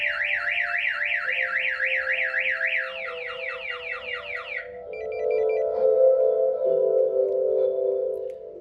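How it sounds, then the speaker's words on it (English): A Compustar alarm on a Nissan Silvia S15 goes off loudly nearby, cycling through a fast warbling siren, then a rapid chirping sweep, then a lower steady honk-like tone, with no voices over it. "the alarm's going off because it thinks that the door has been opened while the alarm is armed"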